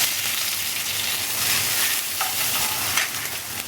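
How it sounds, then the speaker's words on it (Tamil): Curry leaves, ginger and chili fry in coconut oil with a steady, dense crackling sizzle, close and fairly loud, with occasional stirring scrapes and no talking. "இந்த தேங்காய் எண்ணெயில் பொரிச்சு கொட்டினாலே நல்ல வாசனை"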